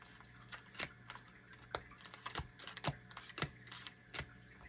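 A deck of cards being shuffled close up: scattered sharp riffling snaps and clicks in uneven bursts over quiet background.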